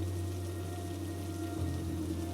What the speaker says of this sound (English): All of a sudden, the rain began to pour.